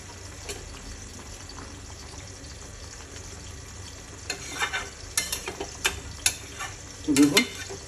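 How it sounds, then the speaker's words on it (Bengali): Fish pieces go into a simmering curry of potato, green banana and water spinach, a low bubbling hiss giving way to a cluster of wet splashes and stirring clatters toward the end. "তো এখন আমি মাছগুলো দিয়ে দেবো।"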